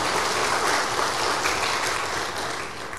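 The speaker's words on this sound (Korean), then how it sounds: "박수 한번 해주세요." A church congregation applauding a visiting choir conductor at a Sunday service, a dense, steady hiss of many clapping hands with no break for three seconds, fairly loud and even throughout.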